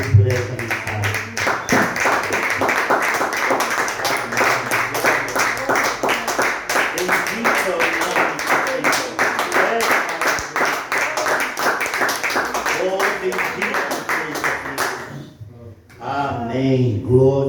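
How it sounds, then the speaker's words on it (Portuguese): A church congregation claps in praise, a strong rhythmic beat of many hands keeping steady time for a long stretch, with a voice over it, before it drops away and speech takes over. "Vamos louvar ao Senhor com as nossas palmas"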